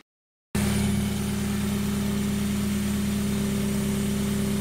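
Mazda Miata engine fitted with a custom intake and its MAF sensor deleted, bursting into a loud, steady close idle after a brief silence, a deep even rumble that holds without revving.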